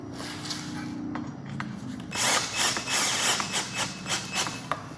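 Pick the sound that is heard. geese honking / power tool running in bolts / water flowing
power tool running in bolts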